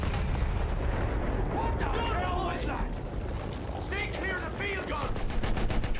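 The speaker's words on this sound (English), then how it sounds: "Field gun. We got a field gun." A field gun fires amid constant rumbling battle noise in the Battlefield 1 campaign, heavy booms and crackling gunfire throughout, with bursts of whistling shell or ricochet sounds layered over the din.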